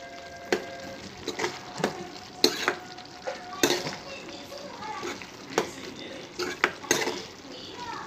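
Chilli powder being mixed into curry in a pan, with repeated scraping and clinking stirs of a spoon against the pan over a soft sizzle, close and irregular.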